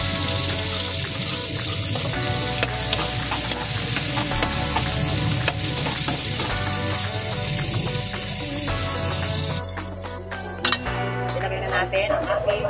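Garlic sautéing in a pan for pork caldereta, with a constant sizzle and frying hiss, stirring and clinking of utensils, and a shift to quieter kitchen sounds near the end.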